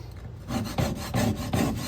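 A skinner knife's blade is drawn across a sharpening stone in four even rasping strokes, close and fairly quiet, with no voices.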